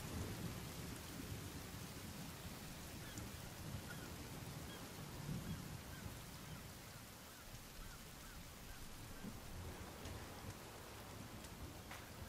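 Steady heavy rain with rumbling thunder in the survival game The Forest, a dense continuous wash at even loudness throughout, with low rolls swelling underneath and no talking.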